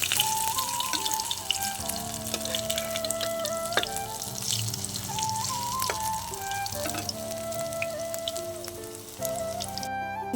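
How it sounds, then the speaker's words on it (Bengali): Drumstick flower fritters frying in oil over a medium gas flame, a continuous close crackling sizzle with faint tonal hum in the background, no speech. "গ্যাসের আগুনটা মাঝারিভাবে রেখে দিয়ে আমি বড়াগুলোকে ভাজবো।"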